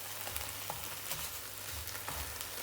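Bacon fries in a pan with a steady close crackling sizzle, dotted with sharp pops and low scraping stirs, and no voices over it.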